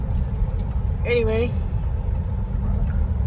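A car drives on the highway, giving a steady low rumble of engine and road noise throughout, with a brief tonal whine near the start. A voice speaks briefly over it.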